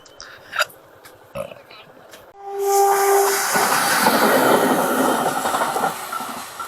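A long train rolls past a railway level crossing on a rainy day, starting abruptly after a few faint knocks and holding as a loud, steady rumble with hissing, squealing wheels and a brief whistle-like tone, no talking over it.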